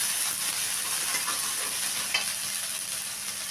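Ginger garlic paste frying in very hot oil for fried rice, a steady loud hissing sizzle throughout with a brief stirring scrape.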